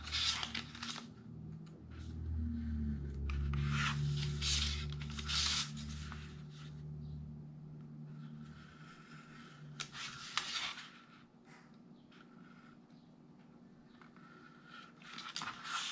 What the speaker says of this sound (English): So I'm going to go ahead and just cut these out.